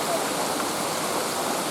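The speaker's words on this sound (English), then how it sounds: "We're actually going down the stream now." A shallow stream flows and splashes as a continuous, even rush of water, close and fairly loud, with no pauses across the short stretch.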